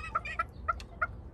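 A hen on a hot-weather farm clucks in short, evenly spaced bursts, about five calls in quick succession, fairly close over a low background rumble.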